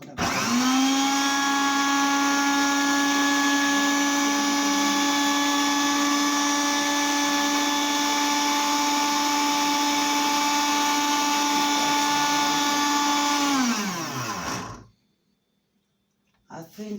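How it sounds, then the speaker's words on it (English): Blender whirring at a constant high pitch while blending watermelon, kiwi and apple into juice, loud and steady for about fourteen seconds before winding down to silence, with a faint voice at the end. "So I've switched my blender on and I'm going to blend."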